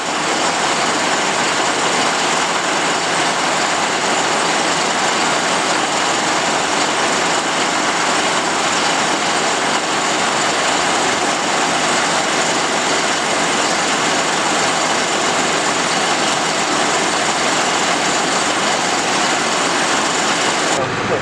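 A steady, loud tractor engine drones on without pause, a dense continuous rumble with a whining high edge, close and unchanging throughout.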